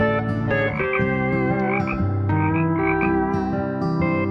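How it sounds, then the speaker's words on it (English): A frog croaks in a steady, layered chorus of repeated tonal calls, close and fairly loud throughout, with no voices over it. "Frog."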